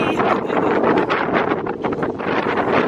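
Heavy wind buffets the microphone in loud, gusty rumbling bursts that continue without a break.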